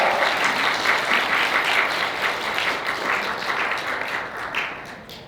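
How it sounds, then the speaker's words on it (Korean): Wedding guests at a hotel ceremony applaud the bride and groom's kiss, a steady wash of clapping from a room full of people that gradually thins and fades toward the end. "우리 큰 박수 하나로 축복해 주시기 바랍니다"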